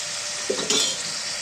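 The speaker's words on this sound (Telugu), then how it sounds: "ఉల్లిపాయలు కూడా బాగా ఫ్రై అవ్వాలండి" Onions frying with turmeric in a pan give a steady close sizzle, with a few soft scrapes and clinks of a spoon stirring partway through.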